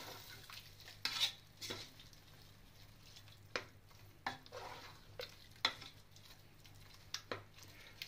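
Cauliflower rice bisibele bath being mixed in a pot, with soft scrapes and clinks of a spoon against metal coming in irregular strokes over a faint low sizzle, fairly quiet, no voices.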